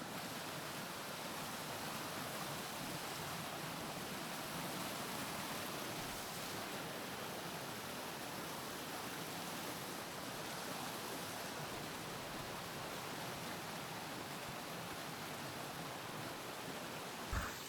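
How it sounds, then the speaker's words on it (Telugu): Strong rushing water on the Korigad fort trail roars as a steady, loud, unbroken wash of broadband noise for the whole stretch, with no voices over it. "వాటర్ ఫ్లో చాలా ఎక్కువ ఉంది."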